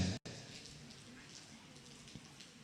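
Night rain falls steadily outside a mosque during a gathering, a soft continuous hiss with faint scattered drops, distant and low in level, after a brief dropout at the start.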